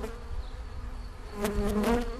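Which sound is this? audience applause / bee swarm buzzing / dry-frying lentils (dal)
bee swarm buzzing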